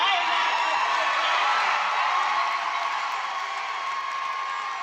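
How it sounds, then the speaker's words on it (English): A large crowd at a Kamala Harris speech cheers and applauds loudly and continuously, a dense roar of whoops and clapping that fades slightly toward the end. "Because of all the cheering,"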